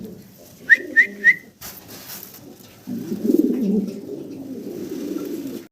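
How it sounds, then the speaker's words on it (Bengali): A pair of large black exhibition pigeons coo nearby: three short, rising whistled coos in quick succession, then a longer, low rumbling coo that swells and carries on steadily to the end. "ভিডিও স্ক্রিনে আমরা দেখতে পাচ্ছি এক জোড়া ব্ল্যাক এক্সিবিশন কবুতর, বিগ সাইজের ভিতরে"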